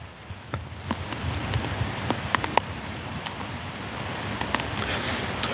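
Steady rain falls outdoors in Devon on a morning walk, a soft continuous hiss dotted with scattered sharper drips and taps striking nearby surfaces, with no voices.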